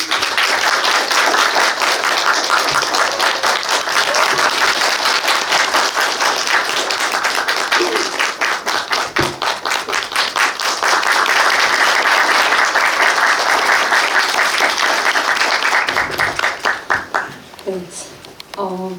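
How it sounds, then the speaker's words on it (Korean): A theatre audience at a film talk applauds to welcome director Ueda Yoshihiko and actress Shim Eun-kyung, with sustained, dense clapping that stays loud for most of the time before thinning out as a voice begins speaking. "박수로 환영해 주세요."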